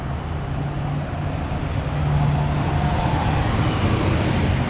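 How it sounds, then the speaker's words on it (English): Singapore street traffic with buses rolls past in a loud, steady roadside rumble, engine drone swelling slightly midway as a heavy vehicle passes nearby. "The buses will be a bit noisy."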